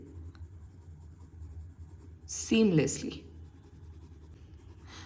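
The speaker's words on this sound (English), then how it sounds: "blend that 8B using our 4B pencil" An 8B graphite layer is blended with a 4B pencil on paper, producing soft, quiet scratchy rubbing throughout, with a brief spoken word partway through.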